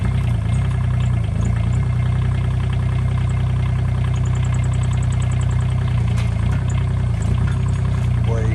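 A 2001 Kubota K008 mini excavator runs steadily close by, its diesel engine droning loud and unbroken as the machine swings around, with someone talking over the noise.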